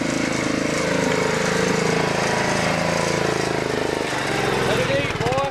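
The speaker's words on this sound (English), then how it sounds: "Yeah, grind them gears." A logging feller machine's diesel engine working hard in the Kentucky woods, loud and continuous with grinding gear changes and rising whines near the end, while someone talks over it.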